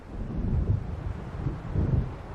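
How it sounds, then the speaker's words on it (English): Low, rumbling storm thunder in the Alan Wake video game, rolling continuously with swells near the middle and end, heavy and close with wind-like noise and no voices. "It seems there's a storm coming."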